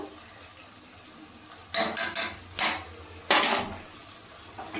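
Bottle gourd leaves being stir-fried in a pan, a low background hiss broken by sharp scraping clatters of a utensil against the pan in short bursts, near and fairly loud.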